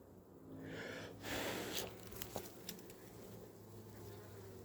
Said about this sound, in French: Elles sont belles, hein, ces abeilles.